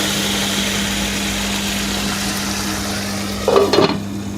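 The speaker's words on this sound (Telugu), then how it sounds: "ఇంకో 2 మినిట్స్ ఇలాగే ఈ ఆనియన్స్ అండ్ కరివేపాకుని ఫ్రై చేయండి" Onions and curry leaves fry in a pan, a steady close sizzle under a constant low hum, with a brief louder clatter near the end.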